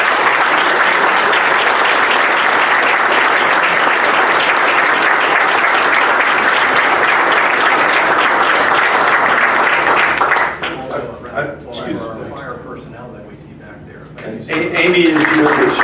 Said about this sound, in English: Ladies and gentlemen, we have a lot of police members here. A round of applause.